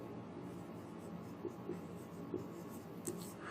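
A divisor is written in the first column of a Vedic maths table, with faint pen strokes and a few light taps scratching on paper over a quiet room background.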